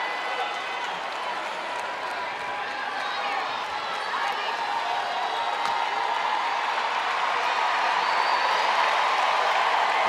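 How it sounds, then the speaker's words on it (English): Basketball arena crowd at a close WNBA game cheers and applauds in a dense, sustained roar that swells toward the end, with a commentator talking over it. "Crowd coming alive in this one-point ball game."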